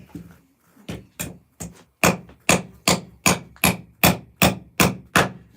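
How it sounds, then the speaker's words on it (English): A hammer strikes a nail in a run of about a dozen loud, sharp blows, sparse at first and then falling into a steady rhythm roughly twice a second, close up with no talk. "Hammer that nail in."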